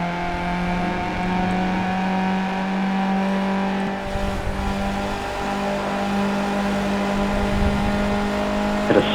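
Skip Barber race car in iRacing at Phillip Island, its engine droning steadily at full throttle and climbing in pitch through the gears, with a brief shift dip midway, loud and continuous with no voices.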